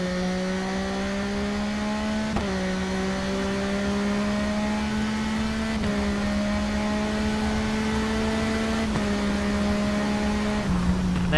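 A superbike engine screams around the full TT circuit in the TT Isle of Man racing game, a loud sustained high-revving whine that drops briefly at several gear changes before climbing again.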